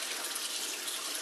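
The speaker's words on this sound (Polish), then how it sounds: "Mam nadzieję, że to nie będzie ten szum wody za bardzo przeszkadzał w tym," A tap runs steadily while makeup brushes are washed at a sink, a continuous close-up rush of water with no talking over it.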